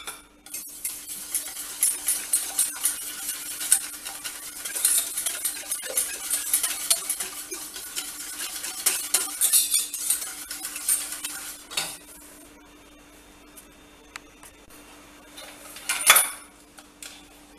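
A spoon scrapes and clinks around a bowl while a chocolate ice cream mixture with condensed milk is stirred, a steady run of close, quiet metallic scraping strokes that eases off near the end.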